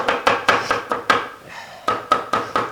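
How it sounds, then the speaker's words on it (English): A knife chops fresh onions on a cutting board, about a dozen sharp, close knocks in a steady quick rhythm with one short pause partway through, and no talk. "let's keep on chopping them up"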